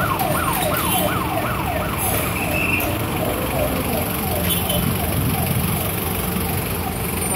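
An intensive care ambulance siren wails in a rapid rising-falling pattern over road noise, loud at first and then fading as it moves off.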